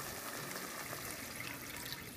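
Water pouring into a cooking pot for a turkey meatball broth with tomato purée, a soft continuous splashing stream at low level that runs steadily and close by, with no talking over it.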